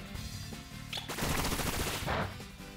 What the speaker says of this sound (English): Bullet Seed.